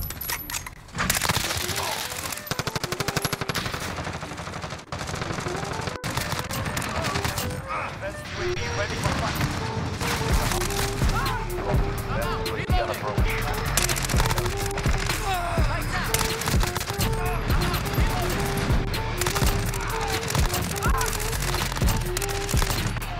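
Sustained rapid gunfire from an ISO weapon in Call of Duty: Modern Warfare, dense continuous bursts under game music and effects throughout, loud and close.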